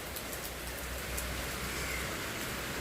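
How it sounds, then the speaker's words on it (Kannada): Steady rain pouring down outside a home, a constant close hiss of drops on surfaces with a low rumble underneath, unbroken and even throughout, with no voices. "ಮಳೆ ಮಳೆ ಮಳೆ ಮಳೆ"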